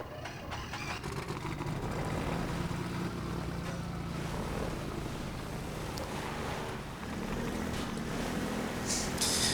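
Boat engine and lapping water in Half-Life 2, a steady low motor drone with wind and water wash running without a break, a brief dip near seven seconds, and a faint high whine at the end.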